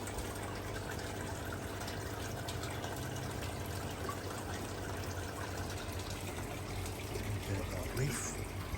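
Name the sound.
water trickling into koi pond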